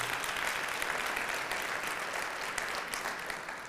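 Sustained audience applause at a live recorded event, following thanks to young people who led the Pledge of Allegiance at a Capitol venue; steady, dense clapping from a large crowd, moderately distant and fading slightly toward the end.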